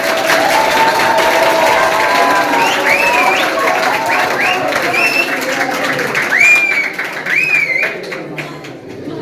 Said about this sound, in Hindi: अपनी मौजूदगी का एहसास दिलाइएगा तालियों के साथ